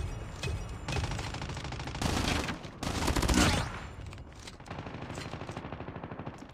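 Rapid automatic gunfire from a video game weapon, loud bursts of fire running almost continuously with brief gaps, heavier clusters in the middle, no talk over it.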